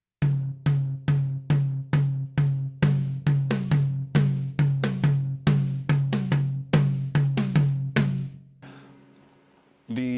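Two drum toms, an 8-inch and a 10-inch, struck in an interlocking two-against-three pattern, a steady stream of resonant hits close up, ending with a brief decay and a fresh hit.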